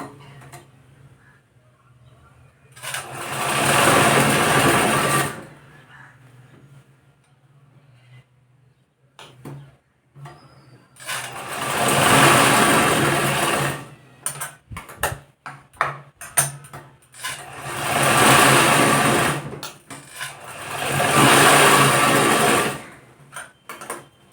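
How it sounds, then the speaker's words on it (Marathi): An electric sewing machine stitches a blouse shoulder seam in four bursts of steady, close whirring a few seconds each, separated by quiet pauses with light clicks and handling of fabric. "अर्धा इंच शिलाई मारून घेणार आहे डबल शिलाई मारून घेणार आहे"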